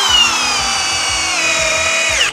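A Milwaukee hammer drill sinks a 6 inch timber lock screw into wood, its loud motor whine holding steady over a rhythmic low thudding before winding down and stopping at the end.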